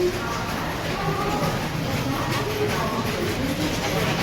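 A train stands at Kharagpur station amid a continuous loud rumble and busy platform hubbub.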